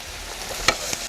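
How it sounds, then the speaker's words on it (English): Onions cooking in butter in a pan with a little ground rock salt, stirred so a utensil scrapes and taps twice over a low, steady sizzle, with no voices. "we get the onions really well cooked in some butter"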